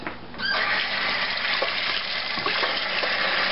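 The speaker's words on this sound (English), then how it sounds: "Let me rinse my hands right fast." Hands are rinsed under a running kitchen tap, a steady close splashing hiss of water with small shifts as the hands move beneath the stream.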